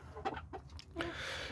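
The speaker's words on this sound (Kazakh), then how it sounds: "адлер әтешім" Adler chickens clucking close by inside a freshly cleaned coop, a quick run of short clucks packed into a moment.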